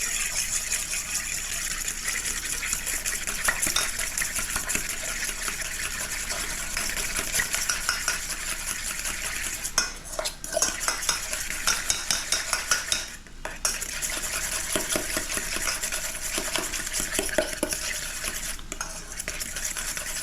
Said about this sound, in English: So now let's whisk this up.